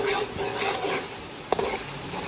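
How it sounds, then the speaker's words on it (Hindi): Cumin and garam masala frying in a pan give a continuous close sizzle, with soft stirring scrapes and one brief sharp clink midway. "जीरा गरम मसाला डालेंगे और इसको अच्छे तरीके से भून देंगे।"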